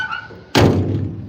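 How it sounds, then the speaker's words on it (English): A barn door shuts with a single heavy, close thunk, and a brief rattling decay follows it. "Let me close this door here."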